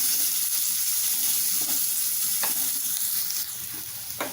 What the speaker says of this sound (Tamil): வெங்காயம் சீக்கிரம் வதங்க கொஞ்சம் உப்பு போட்டுக்கலாம். நல்லா வதக்கிக்கலாம்.